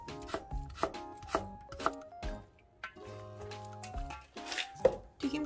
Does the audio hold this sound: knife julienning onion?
yes